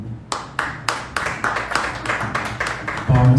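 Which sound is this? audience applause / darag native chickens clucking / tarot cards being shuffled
audience applause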